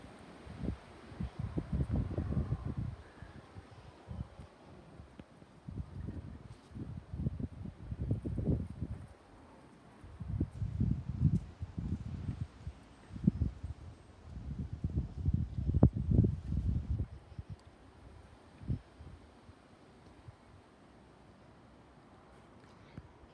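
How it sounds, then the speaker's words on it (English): Strong wind gusts in a backyard during a wind storm: low, rumbling bursts of buffeting come and go in waves every few seconds, fairly quiet overall with no talk. "Here's another really strong wind gust."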